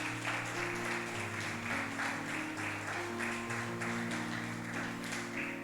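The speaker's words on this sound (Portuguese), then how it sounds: "Você pode dar uma salva de palmas para Jesus?" A church congregation claps for Jesus during a sermon, a sustained, fairly loud spread of applause over steady held keyboard chords that shift underneath.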